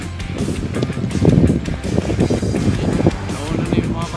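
Steady rushing wind noise buffeting the microphone while cycling, loud and continuous, with a voice speaking underneath.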